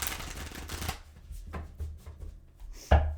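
Tarot cards riffle and shuffle in a quick flurry, then a few softer scattered taps and a sharp thump near the end, close by.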